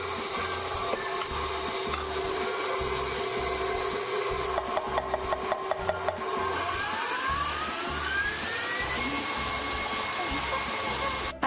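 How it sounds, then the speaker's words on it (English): Electric mixer whirring steadily as it beats egg yolks and sugar for crème brûlée, a loud continuous motor drone with a rattling scrape against the bowl midway and a pitch shift as the speed changes, no voices. "I beat my egg yolks and my sugar together until I got a nice pretty pastel yellow in here."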